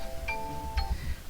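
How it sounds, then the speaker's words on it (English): A short alarm chime rings once indoors, a clear bright tone that sustains briefly and then stops. It plays alone over quiet room noise, with no talking. "That's my alarm for something I don't even have to do today."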